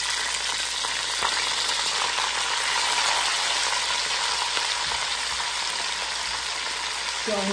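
Onions and celery sizzle and fry steadily in an Instant Pot Dutch oven, a dense, continuous crackling hiss heard up close with no talking.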